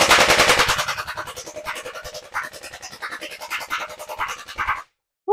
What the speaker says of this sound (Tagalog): Single shot, full auto.